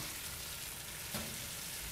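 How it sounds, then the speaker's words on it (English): Steady, dense hiss and crackle of magnesium sulfate sizzling on a melting tray in a hot oven, continuous and fairly quiet, with a brief brighter burst midway. "Do we hear that wonderful sizzling noise?"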